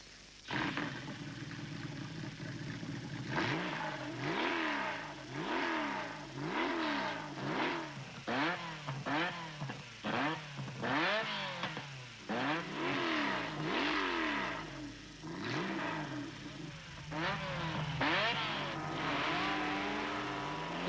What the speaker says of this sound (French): La Ferrari 355 du Ferrari Challenge et la Porsche 911 de la Carrera Cup.